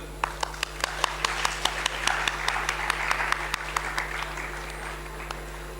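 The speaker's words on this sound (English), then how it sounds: "Claps, people." Audience applause at a conference keynote session: steady, dense clapping from many hands in a hall, rising slightly in the middle and lasting several seconds, over a constant low electrical hum.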